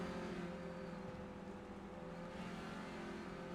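A race car engine in the iRacing video game drones steadily at high revs at Okayama, a continuous buzzing whine heard from on board, with no talking.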